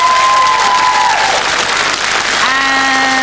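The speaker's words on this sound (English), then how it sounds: "Big round of applause to Jerome and everybody!" A game-show crowd breaks into a burst of sustained applause for Jerome and the other contestants, loud and close, with tonal music playing underneath.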